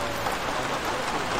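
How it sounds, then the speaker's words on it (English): Heavy rain pours steadily in the Arma 3 video game, a dense, loud, unbroken hiss of downpour with no pauses. "It's raining so loud."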